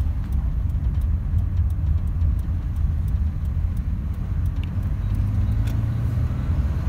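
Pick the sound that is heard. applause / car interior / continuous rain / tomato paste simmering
car interior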